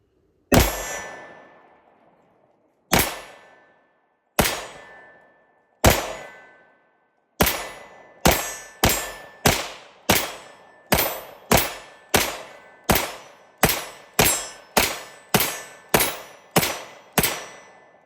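A Kel Tec PR57 pistol fires 20 rounds at an outdoor range. The first sharp reports are widely spaced, then a faster steady string follows, each crack ringing out with a short echoing tail.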